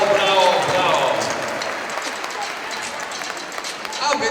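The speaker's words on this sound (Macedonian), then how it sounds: "поздравете ги с уште еден аплауз" An audience claps at a kindergarten's end-of-year show, a continuous wash of hand clapping that holds for a few seconds and swells slightly at the close, with voices underneath.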